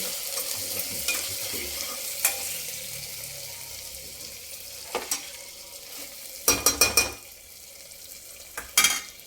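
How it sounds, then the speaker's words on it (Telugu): Tomato and green chillies fry in a pan as they are stirred, a soft steady sizzle broken by several sharp spatula scrapes and clinks against the pan. "కదుపుతూ ఉండాలి, లేకుంటే కింద అంటుకుంటుంది."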